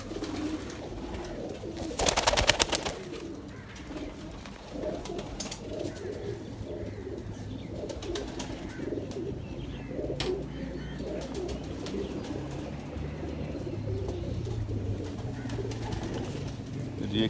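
Low, soft cooing of pigeons repeats steadily over a busy background hum, with a brief rustle or flutter near the start.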